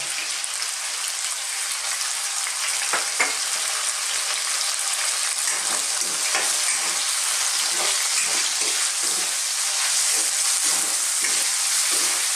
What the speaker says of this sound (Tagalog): Ngayon, ilalagay na po natin ang ating luya at ang bawang. Gisayin na natin siya. Tapos isasama na natin ang sibuyas.